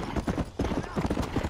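A horse's hooves clip-clop at a quick, even trot in the Red Dead Redemption video game. The hoofbeats are close and rhythmic, with a voice faintly present.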